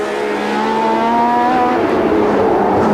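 A Formula 1 Ferrari race car roars past loudly and close, its engine pitch sweeping smoothly through high revs over a few seconds, with no voices.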